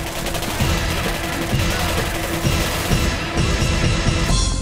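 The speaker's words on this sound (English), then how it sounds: "the key is to gun these guys down while they're still busy jumping through the windows and readying their guns" Dense, loud gunfire in the shooter game Singularity, rapid overlapping shots forming a steady automatic barrage with no pauses.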